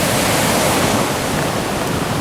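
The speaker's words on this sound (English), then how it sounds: "There we are, looking down at the falls." The cascades of Lower Yosemite Falls make a loud, unbroken broadband roar of rushing water from a nearby overlook, with no talk over it.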